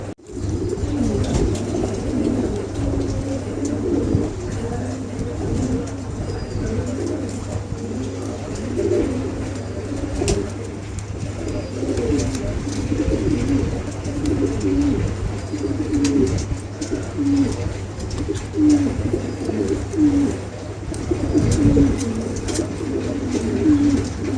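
Pigeons at a pigeon showroom give soft, repeated throaty coos in a steady rhythm over a constant low hum and room noise, close and fairly loud throughout.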